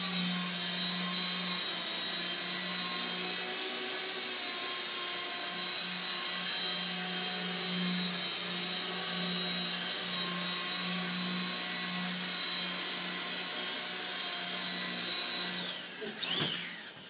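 A small CB180Q radio-controlled helicopter hovers nearby, its electric motor giving a steady high-pitched whine with a constant rotor buzz that holds evenly for over fifteen seconds before a brief wobble at the end.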